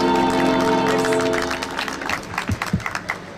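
An audience applauds Ludovine de la Rochère at an evening event in Bondy, a broad steady wash of clapping that thins into scattered claps toward the end.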